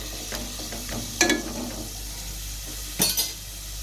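Cashew nuts turning light golden in hot oil in a pan for Telangana-style chicken pulao, a low steady sizzle broken by two brief clattering scrapes of a spoon against metal.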